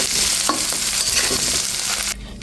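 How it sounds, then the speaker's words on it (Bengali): Whole spices (bay leaf, crushed cardamom, cinnamon, cumin) hit hot oil in a pan, giving a loud, dense sizzle with small pops and stirring that drops away abruptly near the end. "এরপরে এই তেলের ভিতরে ফোড়নটা দিয়ে দিচ্ছি"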